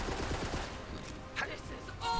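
Gunfire from a Borderlands 3 DLC weapon rattles in a rapid, continuous burst, loud and dense, with a brief lull before it picks up again.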